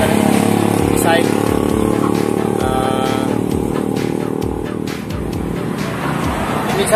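A Honda Supremo TMX150 motorcycle with a misfiring engine runs and revs close by, giving a loud, continuous rough engine drone with uneven surges, and no voices over it.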